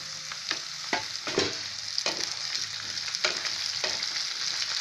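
Potatoes are tipped into frying onions for a quick cabbage sabzi and stirred. There is a steady hot sizzle with repeated scraping and clacking strokes of the spoon close by, and no talking.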